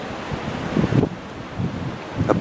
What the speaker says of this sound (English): you can see that it's still a little bit windy out here.